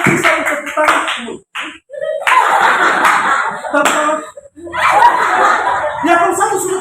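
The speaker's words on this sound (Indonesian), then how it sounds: "Ya kalau satu sudah tepuk tangan, semua kita tepuk tangan." Church congregation clapping hands during a worship service, bursts of loud clapping broken by short pauses, mixed with voices and some chuckling laughter close by.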